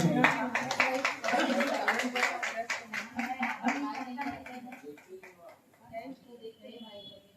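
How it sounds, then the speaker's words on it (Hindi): An audience at a foundation day program claps in a burst of sharp, rapid hand claps that gradually thin out, with voices talking over the clapping. "जोरदार तालियां बजा दीजिए।"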